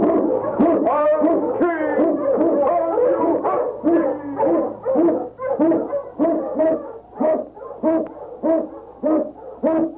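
An Eskimo lead dog howls and bays in an old Yukon adventure radio drama. The calls come as a loud, steady series of rhythmic, tonal cries with no talking over them.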